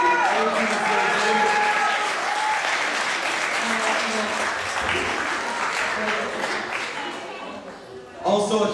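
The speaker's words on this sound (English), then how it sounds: "Also, a huge round of applause to Mr. Big that agreed to judge and support" Audience applause at a school teacher game show for the Comedy Club team, sustained, dense clapping from a crowd that fills most of the clip, with some voices mixed in and a brief louder burst near the end.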